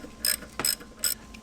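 A ratchet tightens turbo bolts on a Cadillac ATS-V, three short, crisp bursts of clicking spaced evenly apart, close and clear with a faint tap between them.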